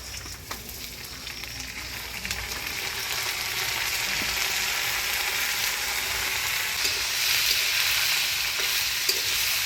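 Washed rice and lentils hit reddened frying onions in a pan, bringing a loud, steady sizzle with stirring that grows fuller and stays constant.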